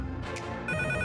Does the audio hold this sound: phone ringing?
yes